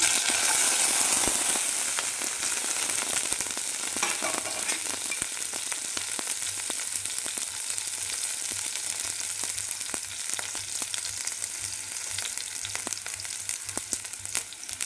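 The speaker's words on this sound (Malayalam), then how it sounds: "കടുക് പൊട്ടാൻ തുടങ്ങി അതിലേക്ക് ഇത് ചേർത്ത് കൊടുക്കാം കൊച്ചുള്ളി അരിഞ്ഞു വെച്ചതും ഉലുവയും" Mustard seeds pop and chopped shallots and fenugreek seeds fry in hot oil in a home kitchen, a loud continuous sizzle studded with rapid sharp crackles and pops that slowly settle.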